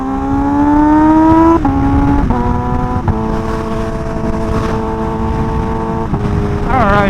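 A Kawasaki Ninja H2 motorcycle engine climbs in pitch, then drops and steps through several gear changes, each shift a clean break in the loud, close whine with no popping.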